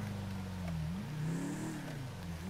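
A car engine in Grand Theft Auto V drones steadily at mid-low pitch, its revs swelling up and dipping back down a few times. The sound is moderate and continuous, with no talking.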